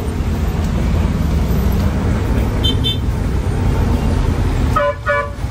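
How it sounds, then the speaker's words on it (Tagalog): Busy road traffic near Feria Road, Matandang Balara, with a constant loud roar of engines and short car horn toots near the end. "Traffic ah."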